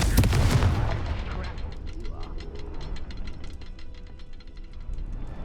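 A Confringo fire spell in Hogwarts Legacy bursts loudly at the start, a booming blast that fades into a crackling, ticking aftermath with a steady low rumble underneath.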